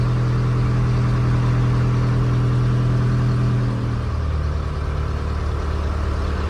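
The engine of a 2011 Cessna Skycatcher, a light aircraft, runs loudly and close at a steady drone with a strong low hum, shifting to a slightly different pitch partway through.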